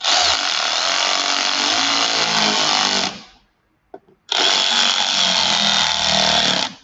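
Power tool snugging up bolts on a Subaru engine whirs loudly and steadily in two long bursts, split by a brief pause with a faint clunk.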